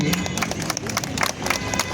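Applause from an audience at a jewellery store opening ceremony, a dense burst of many hands clapping with some crowd noise, fairly near and continuous throughout.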